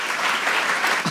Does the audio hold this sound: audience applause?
yes